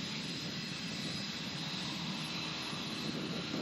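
A yellow airplane flying at an air show, heard as a steady, loud engine roar that drones on without a break, with no voices over it.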